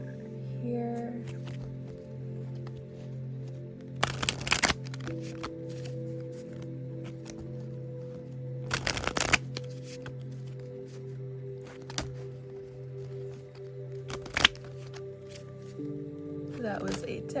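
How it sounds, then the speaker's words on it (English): A deck of tarot cards is shuffled by hand in three brief, crisp riffling bursts spaced several seconds apart, close and clear over a quiet background with a low steady hum. "That was a terrible shuffle right there."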